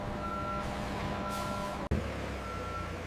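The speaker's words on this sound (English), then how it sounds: "Shipping trucks arrive at loading docks to transport finished products worldwide." A shipping truck at a factory loading dock beeps steadily in reverse, with a brief hiss of air brakes near the middle and a low idling engine underneath, moderately distant.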